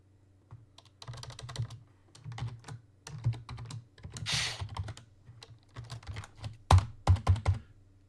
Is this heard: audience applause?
no